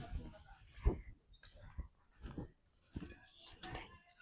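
A dog in a rural village pants in quiet, rhythmic breathy bursts, with faint voices in the background.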